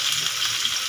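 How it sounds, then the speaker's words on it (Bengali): Chopped onion and green chili fry in hot mustard oil in a pan, a loud continuous crackling sizzle close to the mic with faint stirring, no talk. "পেঁয়াজ আর লঙ্কাটাকে এবার আমি একটু ভাজা ভাজি করে নেব"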